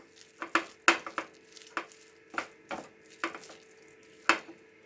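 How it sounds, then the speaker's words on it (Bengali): Leaf fritters (bora) frying in hot oil, with a faint sizzle under a series of sharp, close utensil knocks and scrapes against the pan at irregular intervals. "এইবারে আমি গরম গরম করে ভেজে নেব।"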